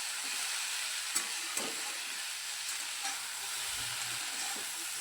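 Roselle fruit chutney stirred in a pan, a soft even sizzle beneath occasional light scraping and tapping of a spoon, fairly quiet and close throughout.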